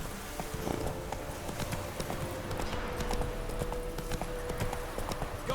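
Geralt's horse Roach trotting in The Witcher 3, with steady clip-clop hoofbeats running throughout at a close, even level over a low game-world ambience.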